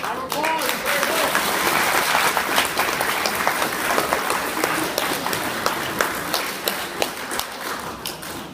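Sustained audience applause at a talk event, dense clapping from a crowd filling the room at steady loudness, with some voices mixed in as it thins toward the end.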